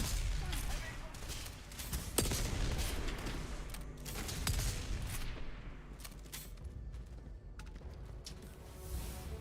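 Gunfire in a Starfield firefight, sustained bursts of shots and booms crackling through a busy mix, with a voice talking over the fighting.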